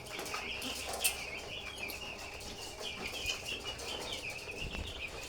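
Young chicks crowded around a waterer drinking vaccine water, with faint soft cheeping and light fluttering and shuffling close by, at low level and without talking.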